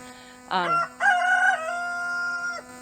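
A rooster crows twice, loud and close, with a short call followed by a longer drawn-out cock-a-doodle-doo over a steady background hum.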